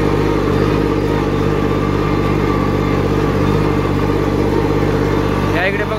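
A tractor engaged in four-wheel drive works a soaked, muddy field, its engine a loud, close, steady drone that holds constant with no clear revs.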